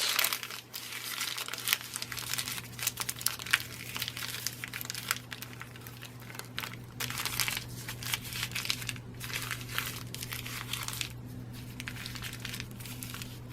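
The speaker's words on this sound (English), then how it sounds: "next I'll take a piece of paper, crumple it" A sheet of paper is crumpled by hand close up, giving crisp, irregular crackling bursts that come and go over several seconds against a faint steady hum.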